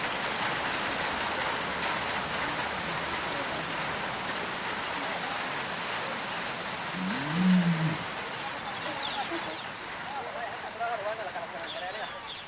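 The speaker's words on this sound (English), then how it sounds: "the rain is a blessing for man and beast." Steady rain hisses down in a dense, even wash in near 40-degree heat in Africa, with a low camel groan rising briefly midway and voices murmuring underneath.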